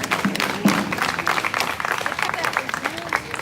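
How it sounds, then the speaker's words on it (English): A crowd at an outdoor peaceful protest rally claps and cheers steadily for an incoming speaker, a dense, continuous wash of applause with voices calling out over it. "Give him a round of applause"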